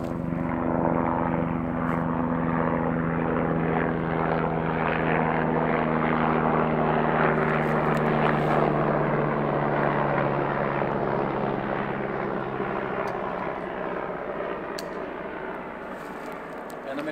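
Helicopter engine and rotor drone passing overhead in cold autumn woodland, a steady loud hum with strong low tonal bands that holds for about seventeen seconds before gradually easing off.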